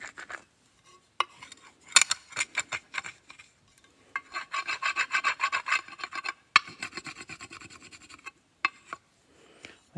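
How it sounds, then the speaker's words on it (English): Stained glass pieces being burnished: a dry, raspy rubbing with short strokes at first, then a steady run of quick back-and-forth scrapes, then a few scattered strokes. Close and fairly loud, with no talking. "Burnish it, burnish it, burnish it,"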